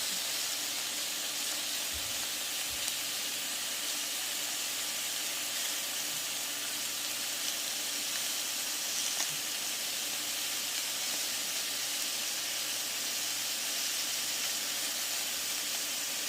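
Sausages browning in a pan, giving off a steady, even sizzle and hiss that continues unbroken, a few faint clicks here and there.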